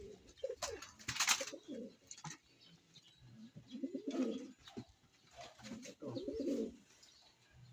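Pigeons coo in a loft, with several soft, throaty low coos close by, some overlapping, along with a brief flutter or rustle, while a voice murmurs a word faintly.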